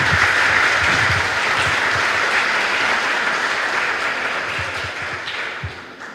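An audience claps warmly to welcome Padre Manuel at a church gathering on the Eucharist. The dense, steady applause fills the whole stretch with no voices, then thins slightly toward the end.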